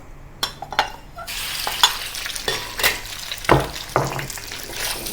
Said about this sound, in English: When the oil is heated, add the beef into the wok.